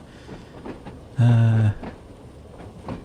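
Train running in the video game Train Sim World 3, with a loud, short horn-like blast that rises over the rumble of the moving train and then cuts off, while a voice talks quietly around it.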